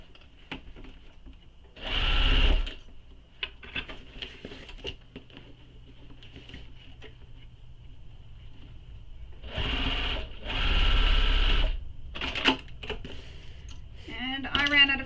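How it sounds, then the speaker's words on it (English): Short bursts of a sewing machine stitch across the boxed corner of a fabric bag, stopping and starting with quiet gaps of fabric handling between them. "Then we're going to sew across that boxed corner with the seam allowance given in the pattern."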